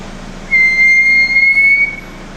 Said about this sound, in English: brakes sound like this.